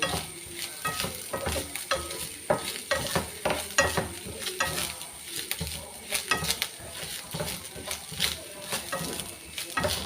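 Fennel seeds frying in a pan while preparing a raw plantain stir-fry, a light sizzle under frequent clattering stirs and scrapes against the pan, loud and close with no voices.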